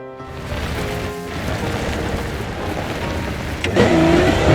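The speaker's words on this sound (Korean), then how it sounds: "와차 소리 미쳤다" A car engine in PUBG Battlegrounds drones steadily and loudly under rain-like noise, with a rising whine near the end as the vehicle speeds up.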